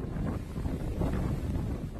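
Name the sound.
strong wind from Hurricane Dorian in the Bahamas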